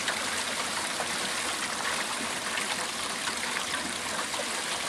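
Rainwater pours steadily through a newly installed house gutter on angled fascia, a constant close rushing and trickling stream with no pauses and no voices.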